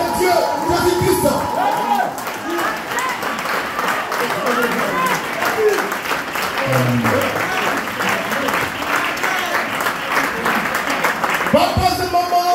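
A church congregation applauds loudly and steadily, a dense wash of many hands clapping under a worship leader's voice calling out praise.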